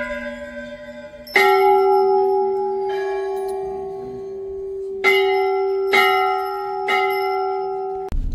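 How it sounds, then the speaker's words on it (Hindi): Temple bells ring at the Golu Devta temple, which holds thousands of bells from small to large: several loud, close metallic strikes, each leaving a long ringing tone that hangs and overlaps with the next. "हजारों की संख्या में छोटी से लेकर बड़ी तक हजारों घंटियां आज भी इस मंदिर में विद्यमान हैं।"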